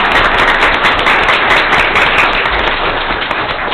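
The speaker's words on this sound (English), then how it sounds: "If they need a round of applause for that," Applause from an audience at a regular public meeting, steady dense clapping that fills the room at close range without letting up.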